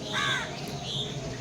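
Birds calling in the early morning beside the railway at Aluabari Road, with a crow's harsh caws standing out clearly and moderately near over a steady low background hum.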